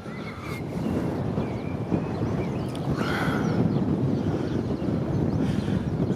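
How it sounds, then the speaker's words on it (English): Steady wind buffets a microphone outdoors beside a heritage railway incline, a continuous low rumble with gusty swells and no talk. "I would certainly say it was quite windy here at the present time."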